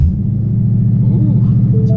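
A Ford Mustang with a Brenspeed tune idles after starting, a loud close low rumble with a steady pulsing beat, its pitch lifting slightly toward a higher idle.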